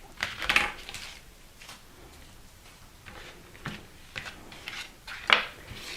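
A chef's knife cuts the bottom off an onion on a board, giving two sharp clicking knocks about five seconds apart amid faint rustles and soft handling sounds, close and quiet.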